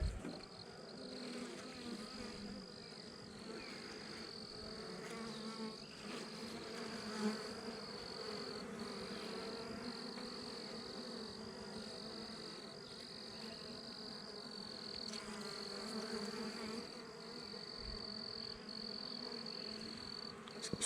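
Honey bees in an open hive frame buzz continuously, a dense, steady drone of many wings close to the microphone with slight swells, heard alone without talk for about twenty seconds.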